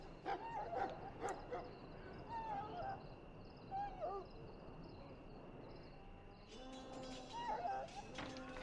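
An injured war hound whimpers and yips softly in the Korcari Wilds of Dragon Age: Origins, with repeated thin high whines over a steady low ambient bed, moderately distant.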